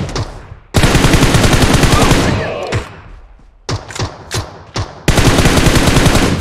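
PUBG Mobile automatic gunfire rattles in long, loud, rapid bursts close by, broken by short gaps and a few single shots, with no talk over it.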